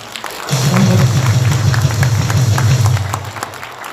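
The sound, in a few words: audience applause for the YouTubers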